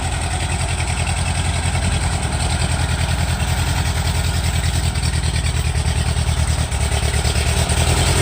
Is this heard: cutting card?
no